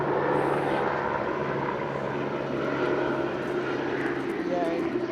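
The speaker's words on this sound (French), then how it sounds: "Ça, c'est l'hélico, ouais." A helicopter flies low over an area near a wildfire, its steady rotor and engine roar filling the scene loudly and continuously with no pause.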